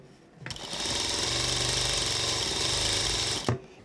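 A sewing machine with a half-inch right compensating foot stitches along the right edge of fabric, a steady rapid mechanical whir that starts abruptly, holds evenly for about three seconds, then stops with a final clunk.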